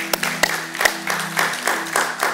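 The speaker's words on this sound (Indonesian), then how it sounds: "Berikan tepuk tangan untuk Tuhan Yesus" A church congregation at a Sunday service claps together, a sparse run of distinct, fairly close hand claps in an uneven rhythm, roughly eight or nine strikes over a couple of seconds, heard without talk.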